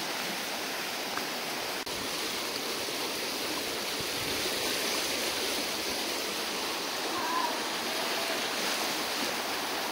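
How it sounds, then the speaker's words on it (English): A river flowing steadily along a walking trail in Ontario, Canada, a continuous broad wash of rushing water that holds even and fairly close for the whole stretch, with no talking. "This is a nice river walk."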